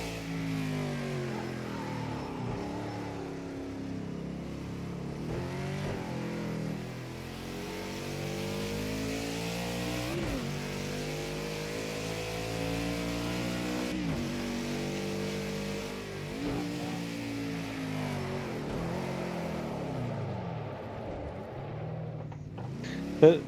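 A race car in the video game Project Cars 2 revs through repeated downshifts with throttle blips, engine pitch rising and falling in sweeping waves for over twenty seconds, steady and fairly loud, with no talk over it.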